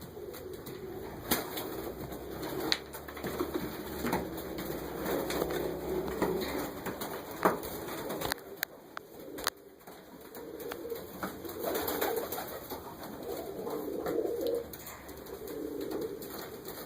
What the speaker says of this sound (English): I just don't have time to fly both sets of pigeons